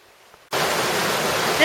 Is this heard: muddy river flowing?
yes